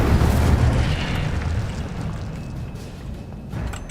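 Incendio fire spell cast in the Hogwarts Legacy video game, a loud close whooshing blast that fades into a crackling, roaring rush of fire over a few seconds, with no talk.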